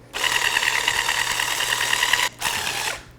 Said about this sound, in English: I'll just take my whisk, I'm going to turn the speed to low